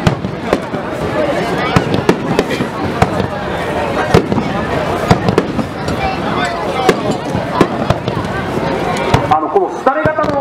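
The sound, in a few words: fireworks exploding at a festival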